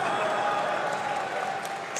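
An audience at a French political rally applauds and cheers in a dense, continuous wash of clapping that eases slightly toward the end, heard from within the hall.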